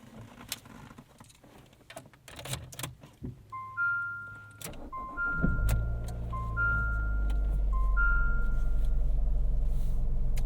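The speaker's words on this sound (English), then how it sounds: "let's start this thing up" A 2018 Fiat 500 Pop starts up from inside the cabin: a few clicks and handling noises, a brief starter whine, then the engine catches and settles into a steady idle rumble that grows louder.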